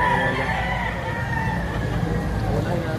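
Stag rooster at a chicken market in Padre Garcia, Batangas, crowing amid busy market chatter and background murmur, with people talking nearby.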